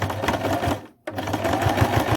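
A sewing machine stitches down a strap on a Christmas top in two close, steady motor bursts separated by a brief pause.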